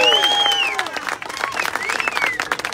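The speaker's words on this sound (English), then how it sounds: "let's give Mary a round of applause for retirement" Crowd applause at an outdoor classic car show, a dense patter of clapping from a gathered group, fairly loud and close, with lively voices and whistles mixed over it throughout.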